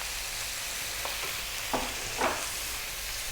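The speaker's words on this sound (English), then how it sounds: "We're now going to drop in that tomato paste." Tomato paste dropped into a hot pan for a lamb curry sizzles steadily, with a few brief stirring scrapes standing out against a constant close frying hiss.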